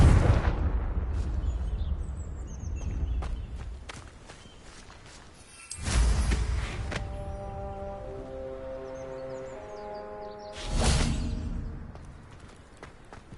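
Confringo spell blasts in the video game Hogwarts Legacy, three heavy booming explosions spaced several seconds apart, each a loud broad burst that fades into a rumbling tail, with chimes and game effects between.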